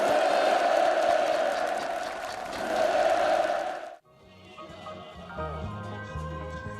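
Enthusiastic applause and crowd noise from participants at a housewarming ceremony for new homes in a farm village, a dense loud roar of clapping that cuts off abruptly partway through.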